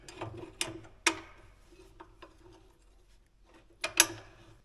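Metal bolts being fitted by hand into the bottom of a planter's new liquid fertilizer system: a few sharp clanks and clicks, with light ratcheting and tapping in between, close and alone without talk.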